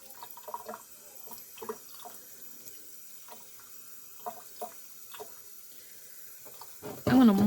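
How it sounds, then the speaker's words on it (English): Scattered drips and light knocks are followed by a tap turned on, running water loudly onto a potted houseplant at close range for the final moment, with no talking. "I'm just gently going to run a little water in here around this plant"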